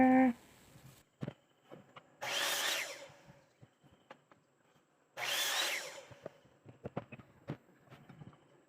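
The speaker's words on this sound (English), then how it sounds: "I'm going to make the pilot holes for the screws" Power drill boring pilot holes for screws into wooden braces for a solar dehydrator, two separate whirring bursts of a few seconds each, with scattered knocks and handling clatter between them.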